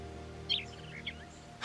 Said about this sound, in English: A real live bird.